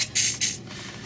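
Two short hissing bursts of spray lubricant hit the rear shock bolts under a 1961 Ford F100 truck, close and loud, the second shorter, then quiet.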